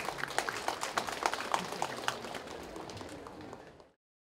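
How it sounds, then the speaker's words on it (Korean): Audience applause greeting a speaker at a ceremony marking Haeinsa Temple's 65th Tripitaka Koreana Day, a dense wash of clapping with brief sharper peaks that fades out near the end. "여러분 큰 박수로 맞아주시기 바랍니다"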